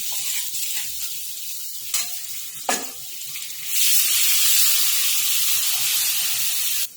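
Chilies and a ginger-garlic-chili paste fry in hot oil in a pan for okra kadhi. Soft clinks open the clip, then a loud, steady sizzle hisses without a break to the end, with no talking.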